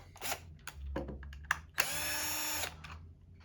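A power drill whirs in several short bursts, then runs in one steady, high-pitched whine for almost a second before stopping.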